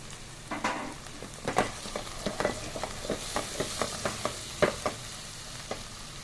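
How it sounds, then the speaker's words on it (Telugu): Onion, ginger-garlic paste and turmeric frying in a pan, a continuous close sizzle broken by a series of rhythmic scraping stirs and soft knocks of the spatula. "ఉల్లిపాయ వేగింది. పసుపు వేస్తున్నామండి."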